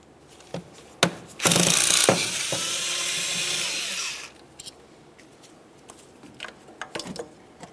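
A ratchet turns a 10mm socket on valve cover bolts of a 2009-2010 Pontiac Vibe 2.4L, giving a sustained whirring run of about three seconds framed by sharp metallic clicks and clanks nearby.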